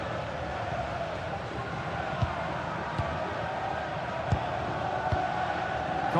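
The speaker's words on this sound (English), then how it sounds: "The crowd certainly think so. Just listen to that noise." A stadium crowd roars in the FC 26 football game during Atletico Madrid vs Arsenal in a Champions League semi-final, a dense, steady wash of crowd noise with a few sharp thumps, under and around commentary.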